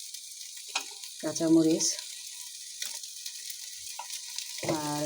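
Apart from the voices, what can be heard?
rice and lentils frying in a pan for khichuri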